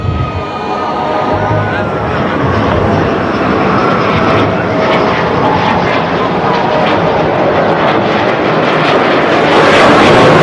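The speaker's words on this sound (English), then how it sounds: "this is precisely what the MKI will demonstrate to you as she flies past at just 300 km per hour" A Sukhoi Su-30MKI Flanker fighter jet makes a slow, high angle of attack pass at an Indian Air Force air show rehearsal in Bhopal. Its loud, continuous jet roar fills the air, with a commentator talking over it.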